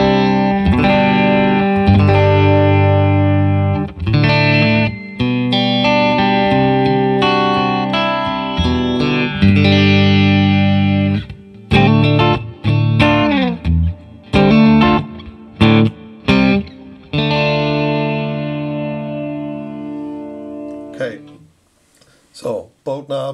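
Clean electric guitar on neck and middle pickups rings out in strummed chords and picked notes, bright and sustained, with a short gap near the end before a few final strums.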